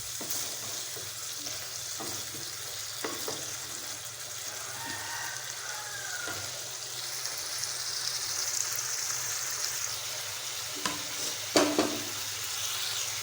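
Desi mushroom besara curry with chili and turmeric paste sizzles steadily in a pan on a home stove, with intermittent scraping stirs and light bubbling close by and no voices.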